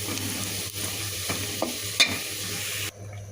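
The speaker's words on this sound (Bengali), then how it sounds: "এখানে পেঁয়াজ আর রসুন আর একটু আস্ত জিরা দেবো একটু ফোড়নটা দিয়ে দেবো" Onion, garlic and whole cumin sizzle as a tempering for bottle gourd dal, a close steady fry with a low hum, a few sharp stirring clinks, then an abrupt drop near the end.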